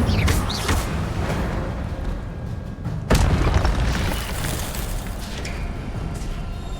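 Incendio fire spell cast in Hogwarts Legacy: a deep whooshing flare erupts, sharp crackles and a heavy thump around the middle, then a steady roaring, rumbling burn, with no talk.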